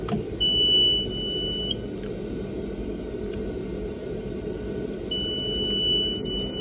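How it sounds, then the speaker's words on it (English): A high electronic warning beep from a John Deere 4450 tractor signalling high hydraulic oil temperature sounds in long steady tones, one near the start and another later, over a low idling engine rumble. "it likes to beep at you continuously and tell you that your hydraulic oil temp is too high"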